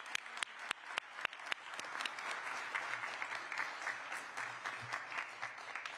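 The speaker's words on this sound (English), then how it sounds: "let's give the mayor a big round of applause" An audience applauds Mayor Eric Adams at a public safety announcement: a few sharp, separate claps open it, then steady, fairly distant clapping from a crowd carries on for about six seconds.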